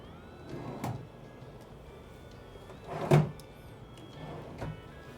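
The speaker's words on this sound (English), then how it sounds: "Big dresser drawers." Big wooden dresser drawers in a century-old renovated frontier hotel room slide and thump in three separate bursts, the middle one loudest and closest, over a quiet room hum.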